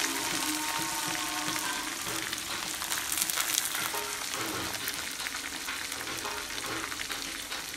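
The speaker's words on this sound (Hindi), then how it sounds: "अभी मैं इसमें थोड़े से लहसुन डाल दूंगी साबुत, जो इसमें अच्छी तरह से फ्राई हो जाएंगे" Steady crackling sizzle of whole garlic cloves frying in hot oil for a dal tempering, continuous and close, with faint stirring and scraping sounds throughout.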